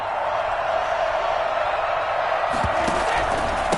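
Stadium crowd in the football video game Madden 21 roaring after a big play, a steady, dense wall of cheering that swells slightly near the end.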